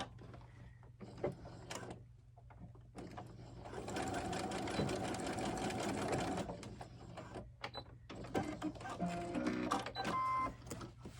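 A sewing machine runs steadily for about three seconds to tack a seam on a garment with a zipper and pocket, framed by quieter handling and rustling before and after.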